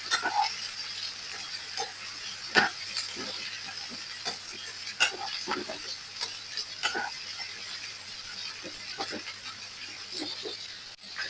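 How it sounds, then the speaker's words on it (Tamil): Chopped asparagus is stirred and sautéed in butter in a pan, with a steady hiss and a long run of light, irregular utensil clicks and scrapes throughout, close by and fairly quiet. "நாங்கள் வெட்டி வச்சிருந்த அஸ்கரகஸை போட்டுக்கொள்ளுவோம் போட்டு நல்லா கலந்து கொள்வோம்"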